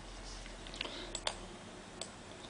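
A computer mouse clicks a few times, small sharp ticks scattered over a quiet, low room hum, with no one speaking.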